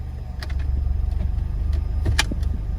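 A Ford Fusion engine idles steadily in park at normal temperature with a low, continuous rumble, broken by a few light clicks and rattles close by.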